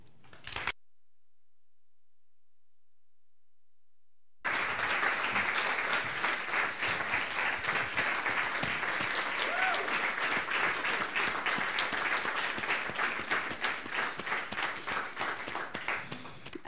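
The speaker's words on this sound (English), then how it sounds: "A well-deserved applause to Ingeborg." After a brief sound and several seconds of silence, an audience at a public announcement event at Litteraturhuset bursts into sustained, even applause of many hands clapping for over ten seconds.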